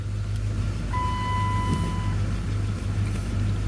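A 2005 Dodge Durango with about 245,000 miles and a light engine tick idles steadily after a remote start, a low constant rumble close by with a brief high electronic tone partway through.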